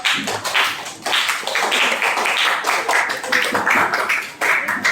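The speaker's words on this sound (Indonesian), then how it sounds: "Give a round of applause." Classroom audience clapping in a round of applause, a dense, steady patter of many hands close by that swells and dips across the whole stretch with no voices over it.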